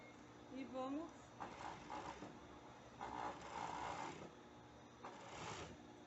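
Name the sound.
sewing machine stitching a bra cup lining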